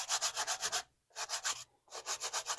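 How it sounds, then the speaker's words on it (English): A small silicone brush with tiny teeth scrubs stuck silk off freshly shucked corn on the cob, giving quick rhythmic rasping strokes in three bursts separated by short pauses, close and loud with no talking. "it helps actually remove any stuck on silk when we shuck the corn"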